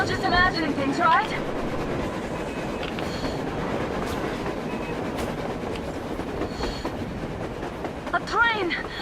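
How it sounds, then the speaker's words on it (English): A train running on the surface in a video game, a continuous rumbling clatter of wheels with squealing metal near the start and end, as voices talk over it. "A train! A damn train on the surface!"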